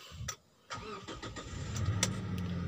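A car with its catalytic converter removed idles roughly, then revs in quick, close blips with sharp throttle response. The engine settles into a louder, raspy idle afterward.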